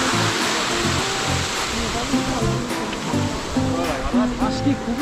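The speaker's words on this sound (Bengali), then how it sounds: "ঝর্ণার ভিউ" A mountain waterfall of likely snowmelt on the Sundakphu trek rushes with a constant broad roar, while people talk nearby over the water.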